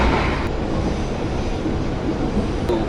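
Steady broadband rumble of a panoramic passenger train running on rails between Jakarta and Bandung, heard from inside the carriage as a continuous close roar without talk.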